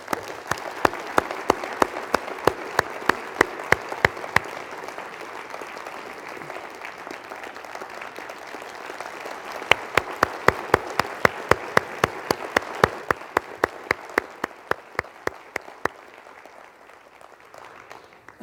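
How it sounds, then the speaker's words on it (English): A sustained round of audience applause honors a reporter at a talk, a dense wash of clapping with sharper individual claps standing out near the front, running steadily for the whole stretch before thinning slightly at the end. "Let's give her another round of applause."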